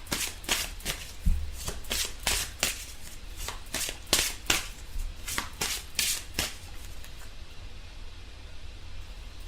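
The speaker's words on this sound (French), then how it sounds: "on va tirer une carte pour voir quelle est l'énergie pour compléter ce tirage" Tarot cards are shuffled by hand in a series of quick riffling bursts, close and fairly quiet, with brief pauses between shuffles and no talk.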